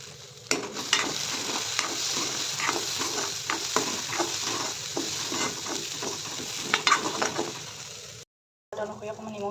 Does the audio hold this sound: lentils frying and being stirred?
yes